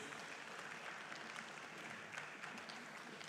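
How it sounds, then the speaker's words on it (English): An audience at a trade fair applauds as speakers leave the stage, a steady wash of many hands clapping throughout, heard from some distance and fairly quiet. "One more round of applause as they exit the stage"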